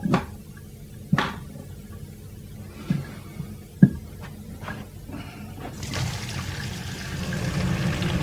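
Water pours and trickles from old household pipes, with several sharp knocks and clunks from the plumbing before a steady rushing flow builds toward the end, nearby and fairly quiet in an indoor room.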